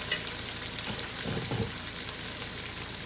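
Blended green chile sauce pours into a pan of frying pork pieces, giving a soft, steady sizzle with a brief louder hiss and bubbling as the liquid hits the hot meat, no voices.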